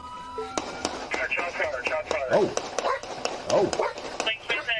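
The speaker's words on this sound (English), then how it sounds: "Oh, they putting rounds down." Gunshots ring out in a police shootout following a high-speed chase in Florida, a series of sharp distant cracks at irregular intervals, heard under excited talk from onlookers.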